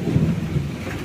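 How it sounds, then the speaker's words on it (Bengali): A thunderstorm with rain: a brief, deep rolling rumble of thunder over a steady wash of rainfall, loud and close. "বিদ্যুৎ চমকাচ্ছে কনস্ট্যান্ট।"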